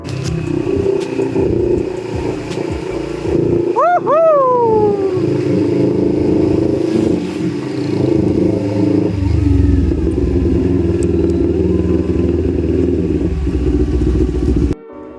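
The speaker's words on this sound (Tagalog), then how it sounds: "So ito yung tunog ng motor." A CFMoto NK400 motorcycle fitted with an SC Project aftermarket exhaust runs close by. It holds a loud, steady, throaty idle for the whole stretch, with a brief rising whine a few seconds in.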